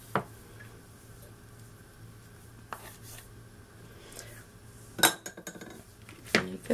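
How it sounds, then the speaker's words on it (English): One metal spoon scrapes and clinks against another over a thick peanut butter mixture, with a few sharp separate taps and scrapes standing out against a quiet background. "Just using that spoon just to scrape my spoon off to make sure it's all well combined."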